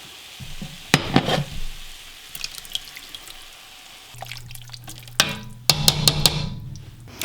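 Butter chicken sauce poured into a hot pan sizzles with scraping, clattering stirring strokes, a sharp burst early on and louder bursts of stirring and bubbling later, with a low steady hum underneath.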